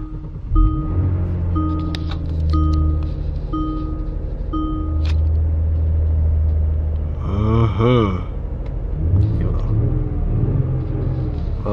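A Kia Stinger GT's engine cranks and fires, a deep rumbling idle settling in with a brief rev-like swell midway, while someone talks over it nearby.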